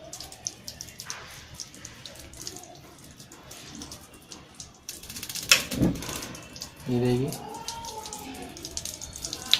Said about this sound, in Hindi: अब इसमें वाटर सप्लाई ऑन कर दिया मैंने।